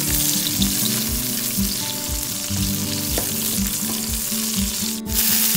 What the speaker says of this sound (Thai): ใส่พริกแห้งลงไปใส่ต้นหอมลงไ ปแล้วก็ใส่ขิงค่ะผัดทุกอย่างให้หอมดีนะคะ